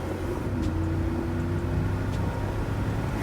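A classic Mercedes car drives along the road, a steady low engine hum and road rumble heard from inside the cabin, continuous and even.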